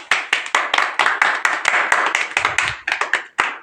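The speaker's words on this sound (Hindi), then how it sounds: "तो इस बच्चे के लिए जोरदार तालियों से स्वागत किया जाए" Clapping from an audience at a village Republic Day (26 January) celebration after a child's dance performance, a fairly sparse, uneven run of individual hand claps with distinct separate strikes, moderately loud and close.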